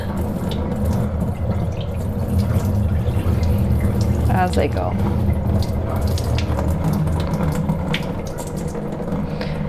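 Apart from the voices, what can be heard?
water filling a bowl while rinsing rice by hand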